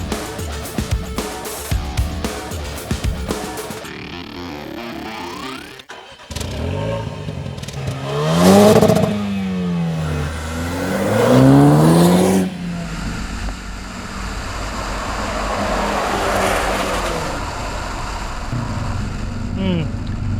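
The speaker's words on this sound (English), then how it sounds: "since we're talking about exhaust, I think it's only fair that we make you hear how it actually sounds" A Jaguar F-Type Coupe with a 2-litre Ingenium engine revs hard through its exhaust, with rising and falling surges and a rasping, throaty note heard close, mixed with some talk and ambient vehicle noise.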